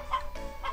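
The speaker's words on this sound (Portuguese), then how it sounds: "que cacarejo da galinha ficou chato" Cartoonish hen clucking from the Harvest Moon Back to Nature video game during a chicken-fighting minigame, two short clucks a moment apart, clear and up front with a faint background hum.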